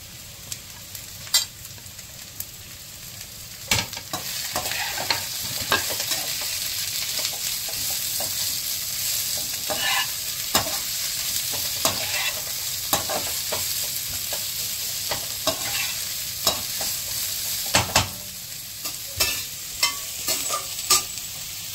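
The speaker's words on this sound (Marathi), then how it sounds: "तितून इल्लें बडीशेप घालपाचें, मागीर कांदो," Onion and fennel seeds fry in a pan for a Goan-style bitter gourd sabzi, giving a steady close sizzle with repeated sharp scraping clicks of a utensil stirring, no voices.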